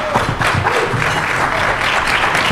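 A luncheon audience breaks into applause for a team, dense continuous clapping from many hands, loud and close throughout.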